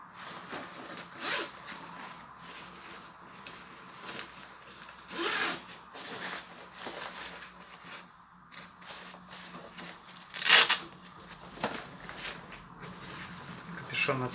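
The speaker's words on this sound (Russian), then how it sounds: "Капюшон отстегивается на молнии." A zipper on the detachable hood of a children's winter jacket is worked in a few short, bright rasping pulls, close and fairly loud, amid rustling fabric handling, with a person talking over it.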